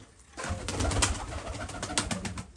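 Pigeons coo close by in a breeding loft, a soft, continuous throaty murmur with some rustling and flutter mixed in.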